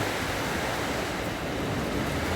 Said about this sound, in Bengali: একভাবে বৃষ্টি নিয়ে যাচ্ছে আর মাঝে মাঝে দমকা হাওয়া